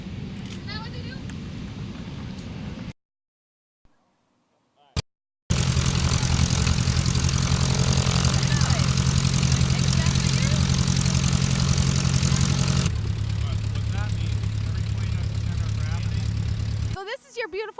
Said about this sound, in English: It has a Venedev radial engine, 360 horsepower.